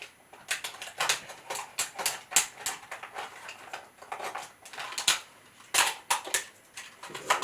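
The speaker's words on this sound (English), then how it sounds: "And simply just cut around in a circle." Scissors snip around a plastic water bottle in a circle, making a rapid series of sharp crinkling cuts and plastic crackles, close and fairly loud.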